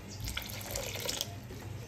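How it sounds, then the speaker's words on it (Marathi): Water is poured into a fish marinade seasoned with salt, making a steady running, splashing trickle that continues for a couple of seconds without speech. "पाणी घाला त्याच्यात"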